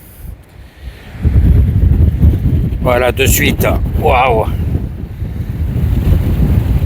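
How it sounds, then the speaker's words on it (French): Strong wind gusts blow along the Sardinian coast near small bays, roaring into the microphone as a loud, continuous rush that swells further near the end; a person speaks briefly midway. "il y a de sacrées rafales de vent"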